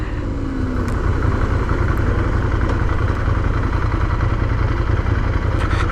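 A 2017 Ducati Scrambler Desert Sled with an 803 cc air-cooled L-twin engine rumbles steadily while ridden, a low, even engine drone with some wind noise and no talking.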